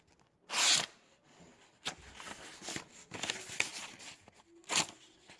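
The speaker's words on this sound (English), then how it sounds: "let's give it a pull through the paper and see how it does" A few short, crisp rasping swipes of a sharp knife blade slicing paper in a sharpness test, with quieter rustles and handling sounds in between, close by.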